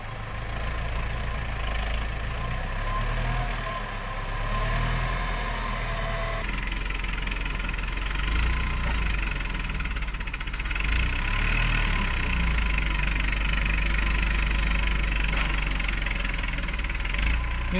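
A small modified four-engine truck hauling acacia timber grinds along a deep muddy road, its engine chugging and knocking at low revs in a steady, rough rumble that shifts character midway with constant vibration and no talk.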